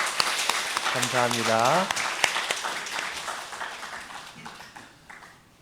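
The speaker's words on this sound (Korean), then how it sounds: "우리 격려하는 박수 한번 하도록 하겠습니다" A church congregation at a Sunday worship service applauds the Zion choir. The clapping is moderate and fairly close, and a voice speaks over it before it fades out.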